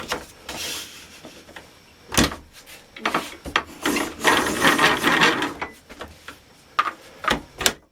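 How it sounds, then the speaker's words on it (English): A modified window shade cutter trims the uneven end off a pyro tube, giving irregular scraping and clicking bursts of moderate loudness, with sharp mechanical clicks between them. "So the first thing I'll do is trim that uneven end off of there"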